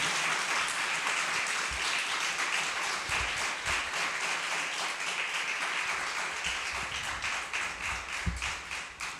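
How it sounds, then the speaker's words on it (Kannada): A church congregation at a Sunday morning Kannada worship service claps loudly and steadily for about nine seconds, a dense wash of hands that thins into separate claps near the end. "ಜೋರಾಗಿ ಒಂದು ಸಾರಿ ಚಪ್ಪಾಳೆ ಹೊಡೆದು ನಮ್ಮ ಗೌರವವನ್ನು ಸಲ್ಲಿಸೋಣ"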